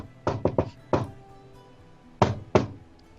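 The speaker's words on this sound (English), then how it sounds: "you managed to knock loud enough" Knuckles rap on an old laboratory door worn by weather and age, chipped and scorch-marked: three quick knocks, a single knock, a pause, then two more, each a solid hollow thud.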